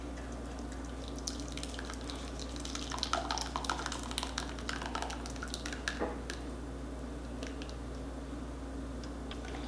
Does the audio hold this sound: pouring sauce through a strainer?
yes